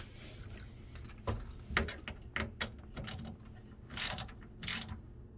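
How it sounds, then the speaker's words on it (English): Screws being tightened while mounting a reverse osmosis water filter system, a series of sharp mechanical clicks and ratcheting bursts at close range, irregular and spaced out, with no voices. "So tighten these screws kind of evenly, or it'll shift from the place where you wanted it."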